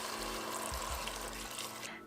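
Water poured into a pot of breakfast soup with potatoes gives a steady, close rushing splash that lasts about two seconds and fades out at the end.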